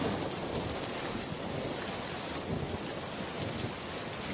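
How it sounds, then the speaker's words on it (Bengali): A rainstorm in a Bengali cartoon, with dense, steady rainfall and a low thunder rumble underneath, continuous and moderately soft, with no voices. "দেখ বৃষ্টি শুরু হয়ে গিয়েছে"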